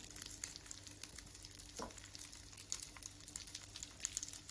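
Chicken pieces frying in butter over a medium flame, a soft, even sizzle with fine crackles and light pops, close but quiet, continuous throughout with no talk.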